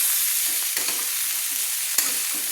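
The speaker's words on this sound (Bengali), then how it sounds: "ফুলকপিগুলোকে আমি নেড়ে নিচ্ছি। দিয়ে আমি একটু হালকা হালকা লাল লাল করে আমি ভেজে নেব" Cauliflower florets being turned and lightly fried in a pan for a winter fish curry, giving a constant bright sizzle with two brief spoon scrapes.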